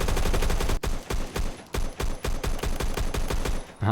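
An SA58 battle rifle fires in the shooter game Phantom Forces, a long string of sharp, punchy shots in fast, fairly even rhythm, loud and close with brief gaps between bursts.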